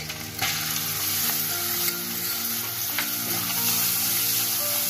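Chopped onion frying in a pan for desi-style tomato spaghetti, a loud continuous sizzle up close with occasional stirring clicks.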